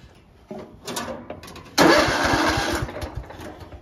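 A Craftsman riding mower engine cranks in short bursts, then catches and roars into a loud, close, chugging run for the final two seconds, with no voices.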